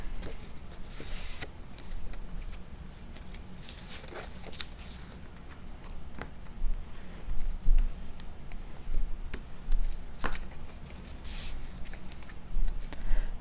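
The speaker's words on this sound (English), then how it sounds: "I'm folding the tabs first." Paper tabs of a card box being folded by hand: soft creasing, rustling and light taps, close and fairly quiet, in short irregular bursts.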